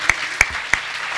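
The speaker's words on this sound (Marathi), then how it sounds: "यज्ञेश दादा यांच्याकरता जोरदार टाळी वाजवा" At a Varkari kirtan gathering, a musician is greeted with clapping: three sharp, evenly spaced claps ring out close by, each one distinct, with quiet gaps between them.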